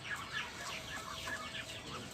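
Free-range village chickens on a small backyard farm cluck in a steady run of short, overlapping calls, close and clear with no one talking.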